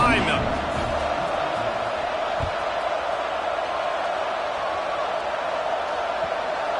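A college football stadium crowd at Penn State versus Nebraska gives a broad, sustained roar and hum before kickoff, dense and continuous from start to finish with a brief thud early on.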